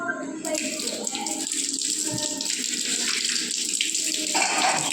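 Tap water runs steadily while arms are washed up to the elbows during ablution, a continuous close splashing stream with a faint voice in the background.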